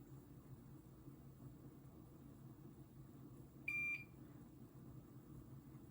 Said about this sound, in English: I know you guys can hear the soldering iron beeping in the background